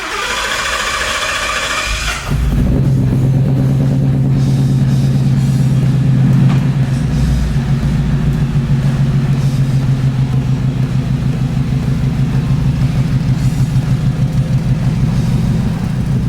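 Coyote V8-powered 1967 Ford F100 truck on air bags starts up, then rumbles steadily as it pulls away and drives, a deep, loud, continuous engine drone with no talking.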